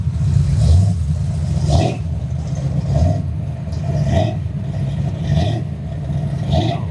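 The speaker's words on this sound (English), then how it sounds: "People driving their fancy cars." Cars drive past on a sunny riverfront street, several engines swelling and fading in turn, one revving, a fairly loud steady stream of traffic with no talk.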